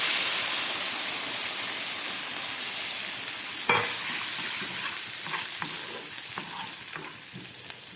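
Water added to mixed vegetables frying in a pan raises a loud, hissing sizzle that slowly softens, with a sharp burst partway through and light stirring clatter, no speech.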